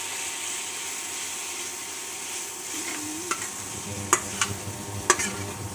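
Maggi noodle chowmein stirred in a kadhai on an induction cooktop, a steady close sizzle with soft scraping and a few sharp clinks of the utensil against the pan toward the end, no talk.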